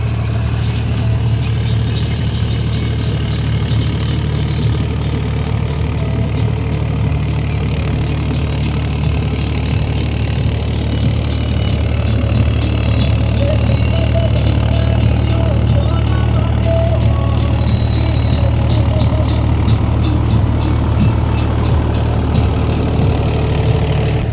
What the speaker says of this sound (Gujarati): ફાઇનલી ટ્રેક્ટર આવી ગયું છે